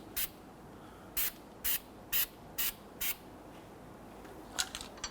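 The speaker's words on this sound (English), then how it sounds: "Going to put some anti-seize compound on the hub face." Anti-seize compound sprayed onto the hub face of a 2005-2021 Nissan Frontier front wheel hub, heard as about five short, sharp hissing bursts at steady intervals, with a few quicker spurts at the end.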